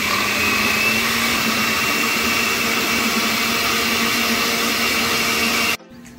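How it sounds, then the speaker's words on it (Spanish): A kitchen blender runs with its lid missing while food is prepared for homemade Salvadoran pupusas. It makes a loud, steady, close whirring roar that holds level for several seconds and then cuts off abruptly near the end. "vamos a poner a licuar esto, pero les voy a contar que se me perdió la tapadera de la licuadora."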